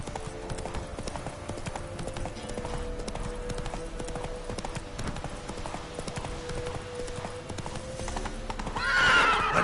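The horse Roach galloping in The Witcher 3, a steady, fast run of hoofbeats close up that continues throughout and ends with a loud whinny.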